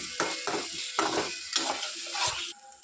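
Ginger garlic paste fries in a kadai over a low flame, with a soft sizzle under rhythmic scraping and stirring strokes, about five in quick succession, close by.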